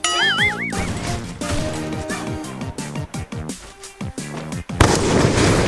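Gunfire in the mobile battle game Free Fire: repeated sharp cracks and bangs pop over the game's layered effects and tonal sweeps, building to a heavier burst near the end.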